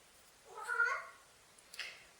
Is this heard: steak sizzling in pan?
no